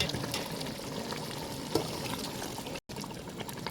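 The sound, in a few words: pouring water into frying chicken masala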